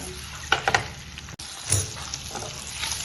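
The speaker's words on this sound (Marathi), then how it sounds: "आणि आता त्याच्यामध्ये यांना परतून देऊया गॅस फुल करून" Boiled eggs are stir-fried in a masala gravy over full gas, giving a steady sizzle with clattering stirring strokes and a brief pause midway, no voices.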